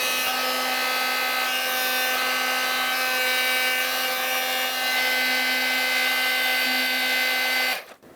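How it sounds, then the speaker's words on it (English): A heat gun runs steadily close by, a constant whooshing blower with a faint tonal whine, warming heat shrink wire connectors on a 1999-2007 Ford F-350 headlight wiring job, then cutting off abruptly at the end. "because these are heat shrink connectors, we're going to heat shrink these."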